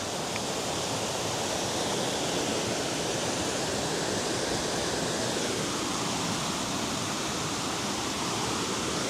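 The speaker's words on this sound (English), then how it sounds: "we're here at the secret waterfall in Ubud Bali" A waterfall in Ubud, Bali pours in a steady, dense roar of rushing water, close and loud and unbroken, with no voices over it.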